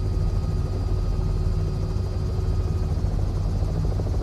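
A CowanSim R66 helicopter in Microsoft Flight Simulator drones steadily, a constant low engine and rotor hum with a faint high whine, heard alone without talk.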